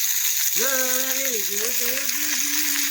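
Leafy greens sizzle as they hit fried onions in a pan on an earthen stove in a village kitchen, a steady frying hiss with a wavering tonal sound rising over it.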